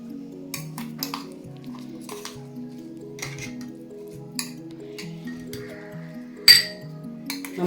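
Ground green mango chutney being moved into a bowl brings repeated light clinks and scrapes of a utensil against dishware, with one sharper clink near the end, over soft tonal background music.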